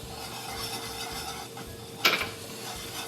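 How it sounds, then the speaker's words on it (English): A gluten-free flour roux for gravy is stirred in a pan over low, steady cooking noise, with one sharp scrape or clink of the utensil against the pan partway through, heard close and alone. "It's going to take about 10 minutes to cook this roux, and I am going to be constantly stirring it."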